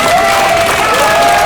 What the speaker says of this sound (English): We do another hand of applause